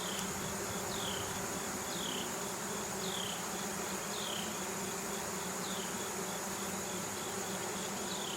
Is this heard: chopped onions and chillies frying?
no